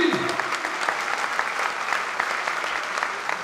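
Rugby club supporters applaud at Aviron Bayonnais's evening squad presentation, a dense, even wash of clapping from a large crowd that holds steady throughout.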